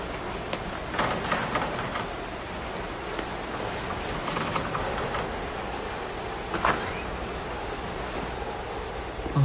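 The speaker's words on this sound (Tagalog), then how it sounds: "Ay, naku, lakas talaga ng ulan" Heavy rain pours in a steady, dense wash that fills the scene evenly from start to finish, with no voices over it.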